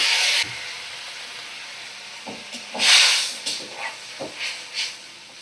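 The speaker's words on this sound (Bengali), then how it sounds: "এবার দেব আমি পরিমাণ মতো জল।" Half a cup of water poured into a hot, cooked spice paste for a Bengali fish curry sets off a loud burst of hissing steam, then settles into intermittent bubbling sizzles and spurts.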